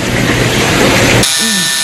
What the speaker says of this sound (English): Oh, too bad. Buzzer beat you.